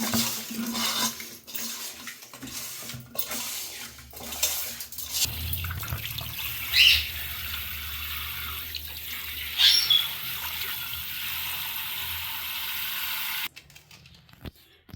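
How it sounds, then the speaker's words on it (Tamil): Fish being washed with rock salt and turmeric under a running tap: water splashing into a metal vessel, with clinks and scrubbing, then a steady stream of water that stops abruptly at the end. "உப்பு மஞ்சள் தூள்லாம் போட்டு உரைச்சி அதை சுத்தமாக மீனை வந்து கழுவியாச்சு"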